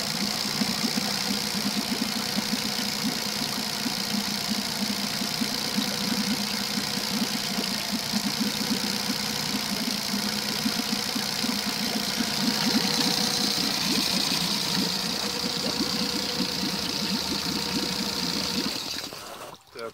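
A Tohatsu EFI outboard motor idles steadily with a constant mid-pitched hum and a faint high whine, close and unbroken for about nineteen seconds before cutting off abruptly.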